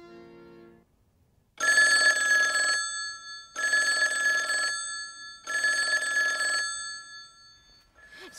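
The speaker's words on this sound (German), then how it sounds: "Telefon!" A telephone bell rings loudly three times in long even bursts with short pauses between, preceded by a brief low tone.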